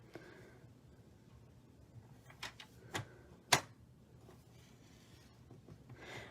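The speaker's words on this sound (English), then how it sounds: "I'm going to score between those 2 cut lines, just in the center" A scoring blade is drawn across paper on a paper trimmer, giving a few faint scrapes and clicks that close with one sharp snap, all set against a quiet background.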